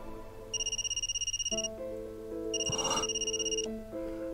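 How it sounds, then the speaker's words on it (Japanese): A smartphone ringtone for an incoming call in the otome mobile game Stand My Heroes: bright electronic tones repeat in short patterned phrases, with a lower melodic line joining partway through. Clear and alone, with no voices. "片手で握りしめていたスマホが電話の着信を告げる"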